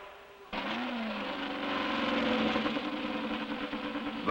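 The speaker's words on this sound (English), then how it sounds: "The mighty roar of the Novi is back." Engine roar from the Novi race car at the Indianapolis Speedway, a sustained harmonic drone that cuts in abruptly and holds steady, heard at a moderate distance and on its own.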